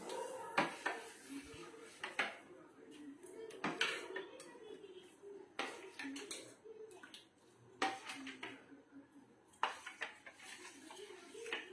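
A utensil knocks and scrapes against a vessel while batter is mixed with added water, irregular clinks and taps close by, with faint speech in the background.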